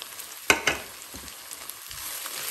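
Chicken keema fries in a pan over a medium flame, giving a soft, steady sizzle broken by a couple of sharp stirring clatters early on.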